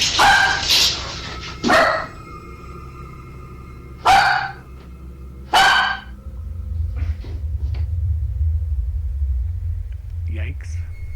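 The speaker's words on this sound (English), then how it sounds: "Her dog seems to notice this, given that he barks when the creaks are heard." A pet dog barks several times indoors, close and loud, in separate sharp bursts spaced a second or two apart, followed by a low rumbling background and faint voices.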